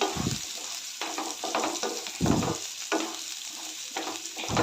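Ridge gourd sautés in hot oil, a continuous close sizzle broken by repeated stirring strokes and scraping bursts at an uneven rhythm; no voices.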